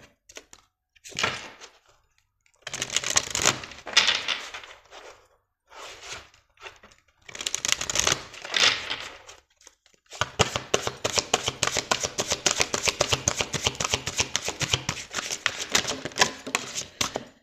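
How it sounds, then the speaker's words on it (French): Oracle cards are shuffled and drawn for a reading, with scattered bursts of papery flicking and sliding at first, then a long, dense, rapid riffle of snapping cards close by, and no one speaking. "on va prendre quelques cartes pour le côté sentimental avec les anges de l'amour"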